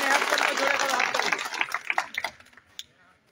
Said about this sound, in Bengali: সুজানা খন্দকার নেহার জন্য জোরে করে হাততালি